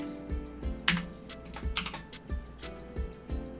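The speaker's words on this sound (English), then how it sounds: "Now we're going to type in" Typing on a computer keyboard, a close, steady patter of crisp key clicks with heavier thumps between them, in a brisk irregular rhythm and no talking.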